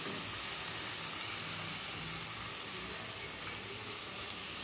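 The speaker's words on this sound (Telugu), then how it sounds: "ఇప్పుడు మనం చింత చిగురు వేసుకుందాం." Chicken curry sizzles steadily and loudly in a hot pan as tender tamarind leaves go in, a dense, continuous frying hiss with soft low stirring rumble underneath, no talk.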